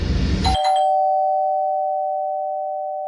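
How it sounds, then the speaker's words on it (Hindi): A doorbell chimes once after a brief burst of noise, its clear tone ringing on and slowly fading in the quiet. "साथ ही डोरबेल बजी।"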